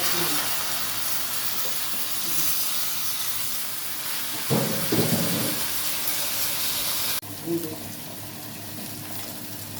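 Rice sizzling in a cooking pot, a continuous hiss that swells briefly midway and then drops to a quieter simmer, with faint kitchen clatter.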